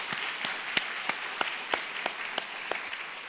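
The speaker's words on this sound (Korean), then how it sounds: "우리 한번 박수 치도록 하십시다." Congregation clapping along in a church during a Sunday worship service, steady rhythmic claps roughly every third of a second over a soft wash of scattered applause, moderately distant and fairly quiet.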